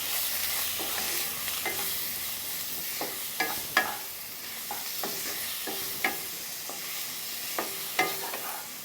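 Drumstick leaves being stirred with fried potatoes, salt and turmeric in a pan, a soft continuous sizzle with repeated scraping and tapping strokes of a spatula, close up and without speech.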